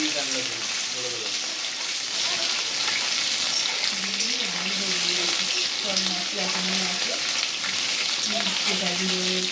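Potatoes fry in a pan with a steady, close, hissing sizzle that runs throughout, while voices talk quietly in the background.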